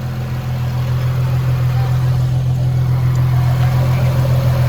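A freshly rebuilt Nissan VQ35HR V6 idles steadily on its first start, a loud, even low drone with a constant hum and no voices over it.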